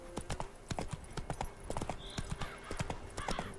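A horse's hooves in the video game The Witcher 3, a loud rhythmic clip-clop of gallop beats close by throughout, with a brief whinny-like sound partway through.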